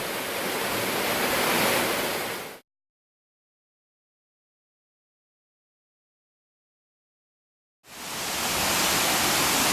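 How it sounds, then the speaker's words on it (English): Deer Creek Falls in the Grand Canyon produces a loud, steady roar of falling water. The roar cuts out to silence for several seconds in the middle and then returns just as strong. "here we are at Deer Creek Falls"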